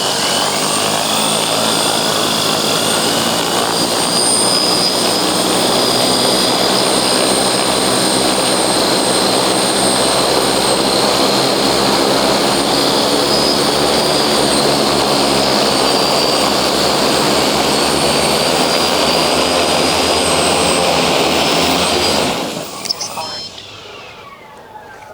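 3D printed drone on its maiden flight, a loud, continuous propeller whine with steady high tones that holds for over twenty seconds before cutting off abruptly as it lands, with voices faintly beneath.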